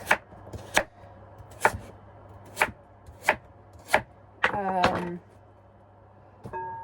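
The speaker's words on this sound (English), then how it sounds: "soon I'm going to be chopping a butternut squash, which always feels like a battle" A knife chops through butternut squash in a kitchen aboard a narrowboat, giving about seven sharp, close, evenly spaced thuds against a board, with a short burst of sung or hummed voice partway through.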